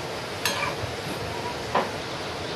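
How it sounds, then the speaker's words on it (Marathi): Modak dumplings deep-frying in oil, a steady close bubbling hiss with two brief clinks of a utensil against the pan. "आता आपल्या मोदकांना आपल्याला छान अगदी अलटी पलटी करून असं व्यवस्थित तळून घ्यायचं आहे."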